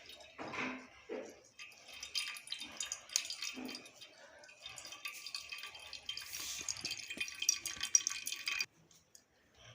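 Soaked wheat batter for chik being strained at home: thin liquid trickles and drips in irregular bursts, close and fairly soft, with a splashy pour toward the end.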